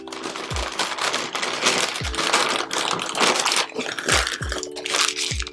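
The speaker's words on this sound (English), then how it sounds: "So the newspaper, we're going to crumple it up." Sheets of newspaper are crumpled by hand up close for a homemade Christmas wreath, a loud continuous crackling and rustling with a few dull thumps mixed in.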